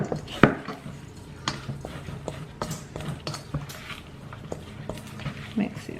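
Meatball mixture with Parmesan cheese being mixed by hand in a bowl, with close, irregular squishing, clacking and scraping sounds at a moderate level.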